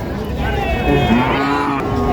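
A cow moos in a long, drawn-out low call close by at a cattle market with young heifers, with faint voices and farm background around it.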